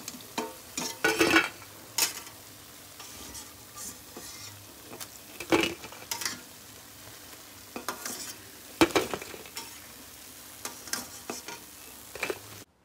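Spinach pakoras frying in hot oil as they are lifted out, a soft sizzle under scattered scraping, stirring and clinking sounds from the utensil, moderately close and without speech.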